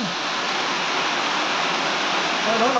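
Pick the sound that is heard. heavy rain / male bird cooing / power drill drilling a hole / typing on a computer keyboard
heavy rain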